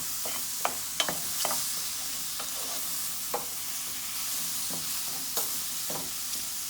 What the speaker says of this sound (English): I'm gonna cook this up until the mushroom is nice and the color changed to a nice brown color